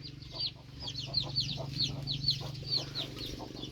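Chickens cluck in quick, repeated bursts close by, layered over a steady low background hum.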